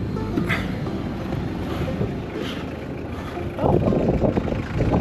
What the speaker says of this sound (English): It's gonna be windy.